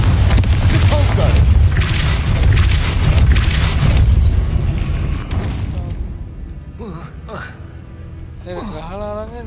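Confringo blast spells explode in the wizarding game Hogwarts Legacy, a loud booming burst that rolls through the first half, then fades into quieter magical whooshes and tonal effects.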